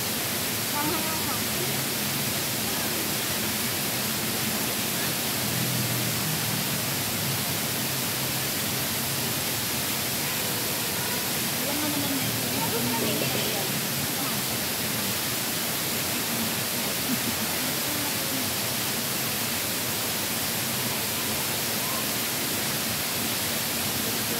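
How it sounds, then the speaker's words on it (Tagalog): A waterfall in Hong Kong at a picnic spot sends out a constant broadband rush of falling water. The roar stays steady and fairly loud throughout, while people talk faintly beneath it. "Pag malakas ang tubig niyan, apaw na sa daanan."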